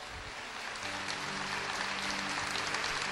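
A church audience breaks into applause, a dense, sustained patter of many hands clapping that swells slightly and holds steady throughout.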